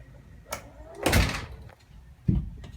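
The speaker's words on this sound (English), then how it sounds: "So here is my Stanley door closer." A door shut by a Stanley door closer: a soft click, then a long whooshing swing as the door closes, followed by a solid thud as the latch catches, all close by with no talk.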